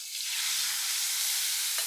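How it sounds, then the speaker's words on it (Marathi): Spice paste, made with ground sev, sizzles and fries in hot oil with cumin and asafoetida, a steady close hiss that stays even and uninterrupted with no talking. "मसाल्याची पेस्ट घातली, तेलामध्ये चांगली परतूया."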